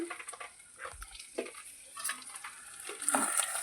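Spices with turmeric powder are stirred and sautéed in a pan, soft scraping strokes of the spoon over a light sizzle, intermittent and close.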